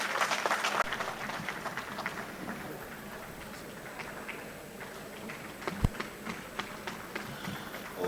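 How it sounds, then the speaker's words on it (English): A memorial event audience applauds after a speech, scattered, fairly faint clapping spread across a large room, with a few sharper isolated claps near the end. "His Excellency deserves a better round of applause, please."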